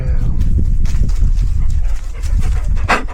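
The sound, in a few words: Bernedoodle dog whimpering on the coast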